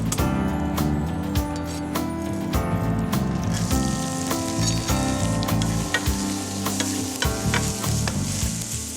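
Ingredients sautéing in a pan for a morel and maple jam, with thyme, a steady loud sizzle and frying crackle running throughout alongside stirring and utensil clinks; no talking.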